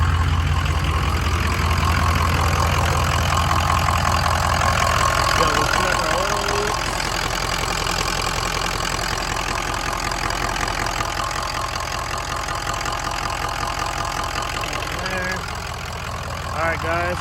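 Turbocharged two-wheel-drive truck engine idling steadily with a full 4-inch to 3.5-inch downpipe and no muffler, a loud, continuous low rumble throughout.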